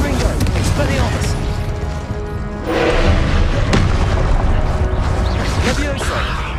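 Spell blasts and explosions in the video game Hogwarts Legacy, loud booming impacts over a dense continuous din of combat effects.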